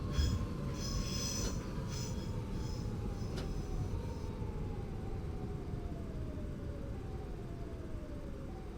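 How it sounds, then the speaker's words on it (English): Simulated train in the Open BVE game slipping its wheels: a thin tone slowly falls in pitch over a steady low rumble, with faint high-pitched squeals early on, no voices. "You can hear there a little bit of wheel slip."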